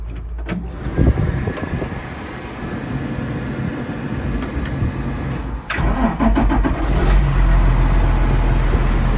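A tractor's diesel engine runs steadily and evenly nearby, a constant low rumble that grows slightly louder partway through, with no voices.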